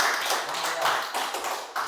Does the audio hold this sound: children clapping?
yes